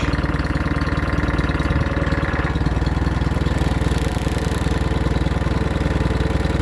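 An Allis Chalmers WD tractor engine running steadily while working its slow loader hydraulics, a loud close chugging idle with an even, rapid firing rhythm throughout.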